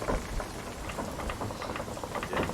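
A rain storm in the video game Sea of Thieves: a dense, steady patter of rain with scattered droplet hits and faint low rumbling, continuous and moderately loud throughout.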